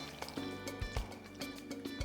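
Pasta is tossed with Bolognese sauce and a splash of hot pasta water, giving wet, squishy slaps and sticky squelches in an irregular rhythm, close and fairly quiet.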